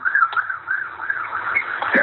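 A police siren on an emergency call sounds as a wavering, warbling tone that rises and falls continuously at moderate distance, somewhat muffled as if heard through a phone line.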